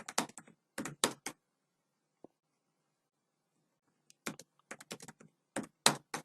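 Program code being typed on a computer keyboard: two quick bursts of close clicking keystrokes, a long quiet gap with a single faint tap, then more bursts of typing with no talking.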